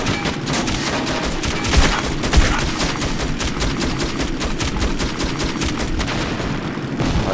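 Sustained automatic gunfire in Metro 2033, a dense, steady stream of loud shots lasting several seconds with a couple of heavier impacts mixed in.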